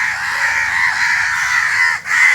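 A flock of crows caws loudly and continuously close by, their harsh, overlapping calls forming a dense, unbroken chorus with only a brief dip near the end.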